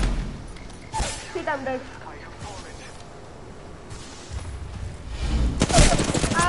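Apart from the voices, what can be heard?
gunfire in the video game Apex Legends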